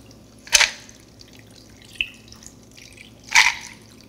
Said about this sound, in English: I have the Tupelo sweetened butterfly pea flower, and I'm gonna just pour it into the side.